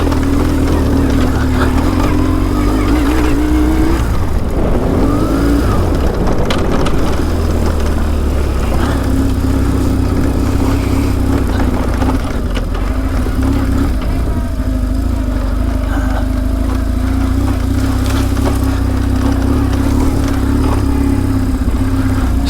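A BMW R1150 GS motorcycle engine hums loud and near during an off-road ride, holding a steady drone with a brief surge of revs early on and rough, bumpy texture throughout.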